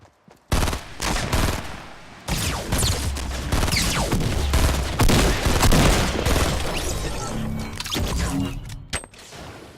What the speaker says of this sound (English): I'm not sure if he was shooting me or not